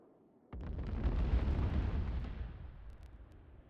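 A bomb from an air strike detonates in the military shooter Arma 3: a sudden deep boom hits at half a second and swells into a long rumbling roar that slowly fades, heard at a distance with no talk.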